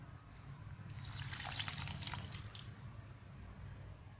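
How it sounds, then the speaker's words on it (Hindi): Buttermilk made from curd and water is poured into idli batter. A faint, soft trickle rises for about a second and a half over a low background hum. "अब इसमें हम छाछ डालेंगे"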